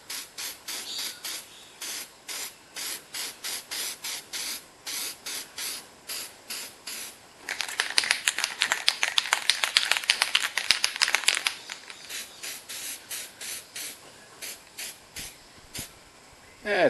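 A can of Permatex copper spray coats engine parts during a turbo LS VZ SS Commodore motor reassembly. Short repeated hissing bursts build into a longer, denser spray in the middle, then return to shorter puffs.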